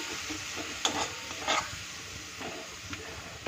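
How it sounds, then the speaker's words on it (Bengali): Ginger-garlic paste gets stirred into ingredients in a bowl, a soft, wet scraping and squelching with a few louder spoon strokes, close and steady, with no talking. "দু চামচের মতো আদা রসুন পেস্ট। এবার সব কটাকে একসাথে মিলিয়ে নেব।"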